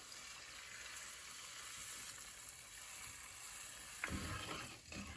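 Second coconut milk poured into spiced masala for a Kerala karimeen fish molly, giving a steady soft sizzle and bubbling in the pan, with a brief pouring or stirring burst near the end.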